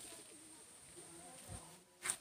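Soft cooing from a pair of white-headed pigeons in a loft, faint and low, with a short brighter flutter or call near the end.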